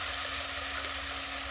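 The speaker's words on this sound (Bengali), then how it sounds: "এবার ওই একই তেলের মধ্যে দিয়ে দেবো অল্প একটু পেঁয়াজ বাটা।" Onion paste sizzles in hot oil for a fish curd curry, a steady close hiss of frying with no voices.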